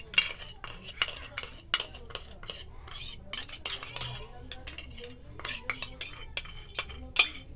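A spoon stirring and mashing jaggery into curd in a bowl for a homemade face pack, with close, repeated clinks and scrapes of metal against the bowl in an irregular rhythm.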